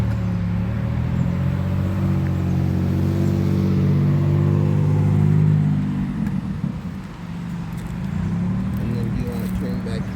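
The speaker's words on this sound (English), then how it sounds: "There's a car coming." A car approaches and passes along a residential street beside a powered wheelchair, its steady engine rumble swelling and then fading, with voices talking over it.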